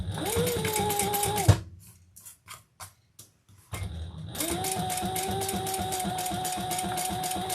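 A sewing machine topstitches the base of a leather handbag, running in a fast, even mechanical chatter, stopping for a second or two of quiet handling clicks, then starting up again and running steadily to the end.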